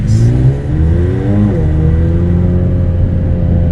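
A tuned full-carbon widebody McLaren 720S supercar with upgraded exhaust and bigger turbos accelerates, its engine a loud, steady roar that rises in pitch and holds close and continuous.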